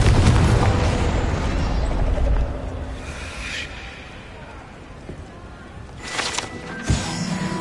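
Confringo spell blast in the Hogwarts Legacy video game: a heavy, rumbling explosion that fades over a couple of seconds, then a sharper burst with a short crack near the end; no speech is heard.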